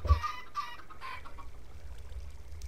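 Minecraft chickens clucking in the game, a few short soft clucks and fowl noises near the start, then faint sparse game ambience with low background hum.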